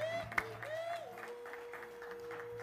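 A church congregation at a Sunday service applauds to praise God for visiting women, a soft scattered clapping mixed with a sustained musical tone and a faint voice.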